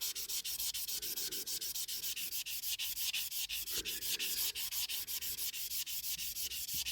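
A 1970s TONKA Ford Mustang toy car body being sanded in fast, even back-and-forth strokes, a continuous rhythmic scratchy rasp, close and loud, with no voices.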